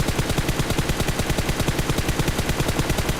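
Rapid automatic gunfire from a video game fight rattles on without a break, a dense and evenly spaced stream of loud shots with no voices.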